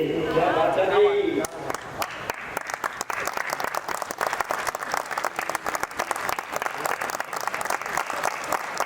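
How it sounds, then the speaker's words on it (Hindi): An audience at a Hindi poetry gathering (kavi sammelan) bursts into applause just after a recited line, dense sharp clapping that carries on steadily for several seconds, with a voice heard briefly at the start. "ये देखो, ये तालियां में बदल गए"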